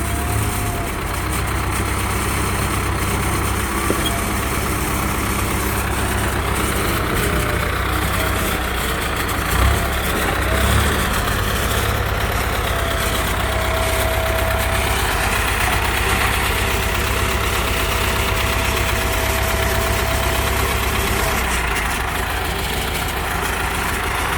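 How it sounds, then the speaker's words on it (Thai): A Ford 5000 tractor engine idles steadily at close range for the whole stretch, with a deep, even low rumble and a faint loose rattle from the front, loud and with no voices over it. "มีเสียงขึ้นหน้ารถหน่อย ไม่รู้ว่า อะไรหลวมนะฮะ"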